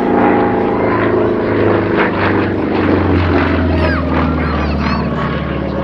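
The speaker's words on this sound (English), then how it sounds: "it really is a pretty spectacular aeroplane up close." A Pitts Special aerobatic propeller biplane flies at an airshow on a clear day, its engine droning loud and steady throughout with shifting pitch as it moves overhead.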